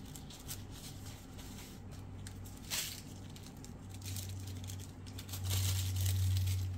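A paper towel is torn off and crumpled at a resin crafting bench, giving soft, close crinkling and rustling in brief bursts over a low steady hum.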